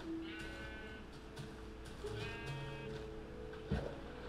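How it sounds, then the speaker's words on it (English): Sheep in the video game Minecraft bleat in several short, tonal calls spread across a steady background, moderately loud, with no talking. "Oh man, there's so many sheep."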